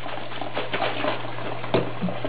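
Cold water sloshing and splashing inside a rabbit's water bottle as it is shaken during cleaning, a close, irregular series of watery swishes with one sharper slosh near the end.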